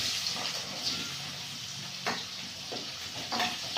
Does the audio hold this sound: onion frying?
yes